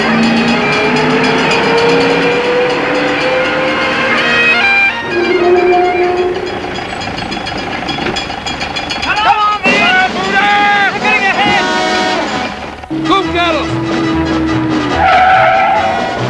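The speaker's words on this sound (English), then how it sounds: "They've grabbed the fire engine." A fire engine roars off fast in a 1965 film scene, tyres squealing and skidding in long wavering tones over engine noise and music, loud and close, with brief shouts mixed in.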